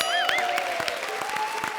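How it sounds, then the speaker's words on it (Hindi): A burst of audience clapping on a TV comedy show continues steadily throughout, with a sustained musical tone and a rising-falling electronic flourish over it. "हमारे शो पर जोरदार तालियां।"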